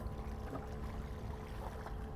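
A speedboat motor on the water during a light-tackle LRF fishing trip, heard as a steady low engine drone with wind and water noise, continuous and fairly close throughout.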